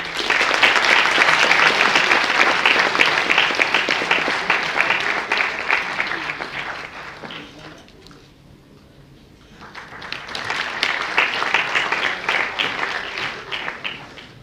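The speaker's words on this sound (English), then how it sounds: "So let's welcome Mr. Vikram Kotnis, CEO and co-founder of AmuraTech.com with a huge round of applause." A conference audience applauds a speaker at a panel session, a broad sustained roar of clapping that fades out around the middle, pauses briefly, then swells again to a second round.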